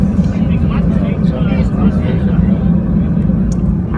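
Inside the cabin of a passenger airplane on a flight to Tocantins, a loud, steady low engine rumble and roar as the plane takes off, with people talking over it.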